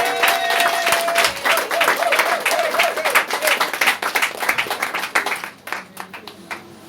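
A church congregation claps and cheers in praise, a dense, steady wave of applause that fills the room before thinning out near the end.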